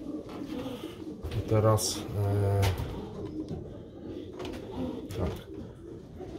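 Pigeons coo steadily in a loft where breeding pairs and young birds are kept, the soft rolling calls close by and mixed with a person speaking.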